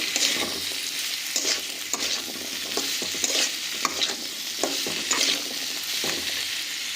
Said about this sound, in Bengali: এবার আলুটাকে আমরা ঢাকা দিয়ে দিয়ে খুব ভালো করে ভাজা করে নেব